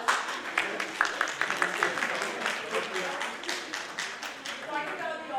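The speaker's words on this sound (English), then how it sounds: "Huge round of applause." Audience at a social work conference gives a round of applause, a dense spread of clapping that stays steady for several seconds, moderately loud, with faint voices underneath.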